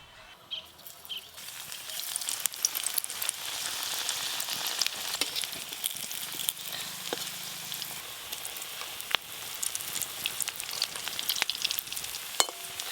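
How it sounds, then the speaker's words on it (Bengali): Poppy seed fritters frying in hot oil, a steady, close sizzle with fine crackling pops that continues throughout without talk. "পোস্তর বড়া ভাজা হয়ে গেছে, তুলে নেব এবার।"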